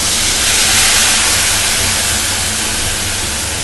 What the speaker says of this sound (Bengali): পেঁয়াজ, আদা, রসুন আর টমেটো পেস্ট, দেখুন এটাকে আমি এবার কড়াই দিয়ে দিলাম